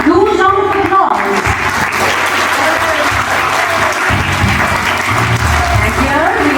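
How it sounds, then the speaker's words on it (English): An audience at a school assembly for a Carmel Day celebration at Mount Carmel School gives loud, sustained applause, with continuous clapping and voices underneath throughout. "Huge round of applause."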